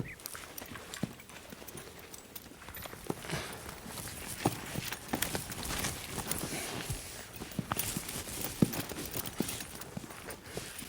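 Hooves of several horses in a corral clip-clop softly as they walk, uneven scattered steps over a faint continuous background.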